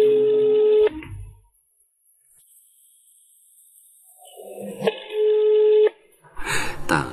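A phone call rings out unanswered: two bursts of the ringback tone about five seconds apart, separated by near silence, with a voice starting at the end.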